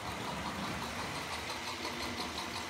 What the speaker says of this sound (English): Lovely purr coming from the motor.